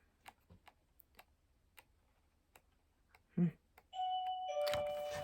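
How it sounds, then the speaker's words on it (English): A home doorbell rings on its own in winter: two bright ding-dong chime tones sound near the end, loud and clear, after a run of soft ticking clicks. "Our doorbell just rings itself sometimes in the winter."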